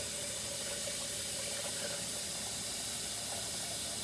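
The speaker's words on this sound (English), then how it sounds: "And I'm going to bring the water level up to the neck of the jars" Warm water runs steadily into a pot holding jars, a soft continuous hiss and splash with no talking.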